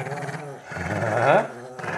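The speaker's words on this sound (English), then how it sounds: "Oh, mean dogs." Dogs growling and snarling in a scuffle, a close rumbling growl rising into a sharper snarl, loud and short with brief yips.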